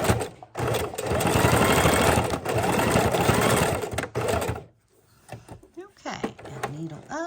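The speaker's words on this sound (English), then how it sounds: "We want to sew right on that crease right there" A sewing machine runs slowly on its longest stitch along the crease of a mini junk journal, a loud steady mechanical whir in two long bursts with a short pause. It then stops, and quiet handling noises and a voice follow.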